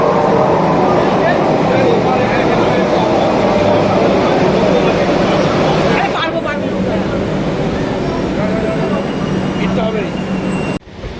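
Commuter train rolling into Sealdah station in Kolkata after passing through an underpass, a continuous loud rumble of wheels and carriage noise throughout, with brief squeals and a sharp clatter near the end, while a person talks over it.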